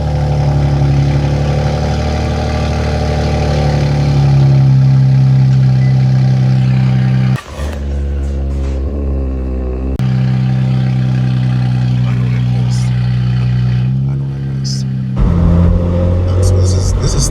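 Nissan Z Nismo engine fitted with a cold air intake idles loudly and steadily, a deep rumbling drone with brief dips in pitch and level, close up and with no talk over it.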